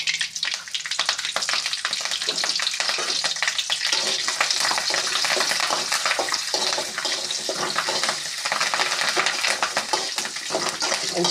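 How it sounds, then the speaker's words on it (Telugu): Small pieces of ginger and curry leaves fry in hot oil with a loud, continuous crackling sizzle. The sound holds steady from start to finish, with no talking. "ఆయిల్లో కొంచెం అల్లం చిన్న ముక్కలు కరివేపాకు వేస్తున్నాం"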